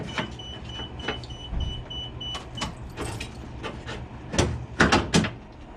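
An electric power window motor pushes the window track upward inside the door of a Nissan Figaro, giving short whirring bursts between clicks and knocks, close and fairly quiet, with louder handling thumps near the end.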